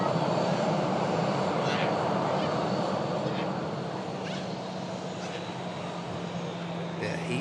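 A Ryanair airliner passes nearby with a steady, broad jet engine roar that holds loud throughout, under a faint background tone.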